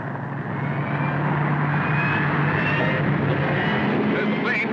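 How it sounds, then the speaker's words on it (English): Propeller airplane flying overhead, a steady loud droning rumble that swells slightly and holds throughout, with no speech over it. "There's the plane."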